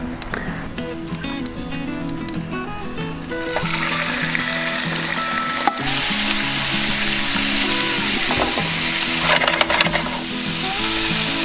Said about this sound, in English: put that in the pan, make sure it's nice and warm, throw in the garlic that we chopped up, and then we just fry the calamari.